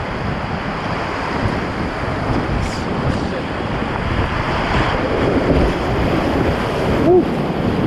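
Rushing river rapids under a Pyranha Scorch Medium kayak front surfing, a loud, steady wash of churning water and wind noise throughout, close to the microphone.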